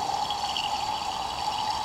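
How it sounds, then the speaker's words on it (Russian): Water is poured into a small jar at a workbench used for recovering gold from processors. A steady, close trickling pour runs continuously with no talking. "Воды налью"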